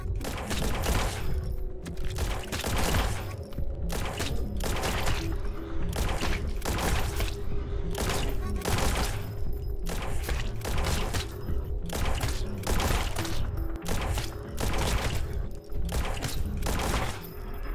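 Defensive turrets in the game Lumencraft fire rapid, continuous volleys, dense repeated bursts and thumps layered over a steady humming background throughout, loud and sustained without pause.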